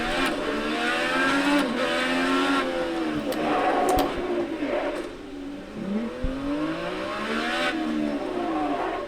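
A drift car slides through turns with its engine revving up and down in rising and falling sweeps, tires squealing briefly, loud and close without any talk.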